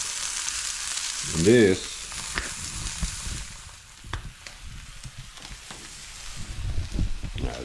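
A seasoned steak dusted with onion powder sizzles steadily on a Blackstone griddle, a loud, continuous frying hiss with a brief spoken phrase near the start.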